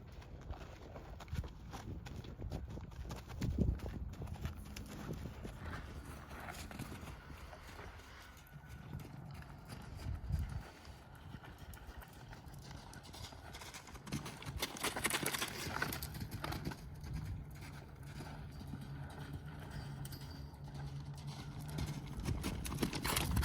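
Hooves of a ridden horse clip-clop at a walking pace outdoors, faint and fairly distant with a steady uneven rhythm, a few louder steps and light background noise.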